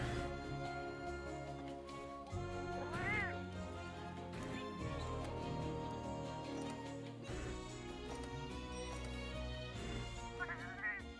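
Safari kitties meowing in a video game, several high wavering calls rising out of dense, busy music and game sounds.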